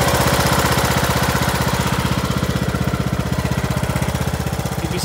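The engine of a Craftsman T110 riding lawn mower runs loud and close, a steady rapid chugging pulse that holds through the whole stretch; no one talks.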